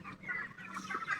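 A chicken on a poultry farm gives a short, soft run of clucks, close by and alone.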